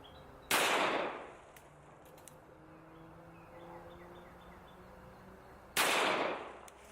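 Two .45 ACP pistol shots fired into dirt, each a sharp loud crack with a short ringing decay, about five seconds apart, outdoors with faint insect and bird background between them.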